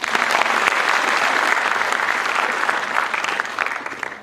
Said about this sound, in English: Give him another round of applause, everybody.